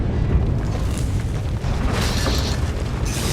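A groundquake in Star Wars: The Old Republic, a loud, dense low rumble rolling continuously for a few seconds with crackling debris noise above it.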